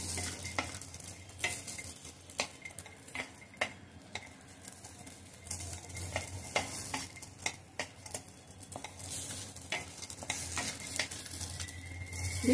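Black raisins frying in a pan for methi ladoo, a quiet sizzle running beneath frequent light taps and scrapes of a spoon stirring, alone without speech.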